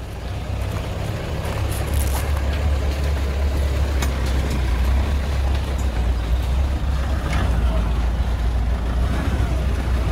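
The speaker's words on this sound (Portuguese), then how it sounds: "Deixa aquele caminhão passar." A truck passes on the road during a test drive of a used pickup, its steady, loud low engine rumble filling the whole stretch without a break.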